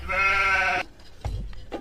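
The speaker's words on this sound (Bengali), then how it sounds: "এ না ছাগল খাবার দিই।" A goat gives one loud, harmonic bleat lasting under a second, followed by a couple of faint, short animal sounds.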